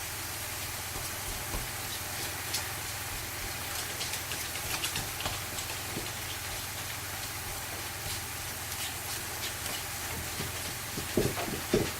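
Ground beef mince sizzles and crackles faintly and steadily in a pan with no added oil, a soft continuous frying hiss with scattered small pops.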